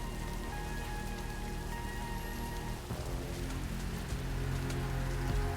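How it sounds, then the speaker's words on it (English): Steady rain patters on surfaces in the video game Death Stranding 2, an even, continuous downpour with soft droplet detail, heard alone without speech. "Listen to this and the rain and the vehicle rusting."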